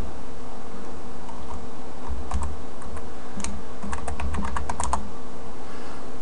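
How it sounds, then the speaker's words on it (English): Short run of typing a password on a computer keyboard, a dozen or so close crisp key clicks in an uneven rhythm over a steady electrical hum. "So I'll go ahead and type in the password"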